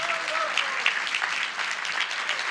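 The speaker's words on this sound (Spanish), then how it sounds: "den un aplauso al Señor" Applause from a church congregation during a sermon, a steady wash of many hands clapping at a moderate level with faint voices mixed in.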